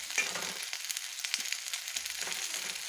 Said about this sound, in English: So with this now, I'll be adding the Irish potatoes inside the pot.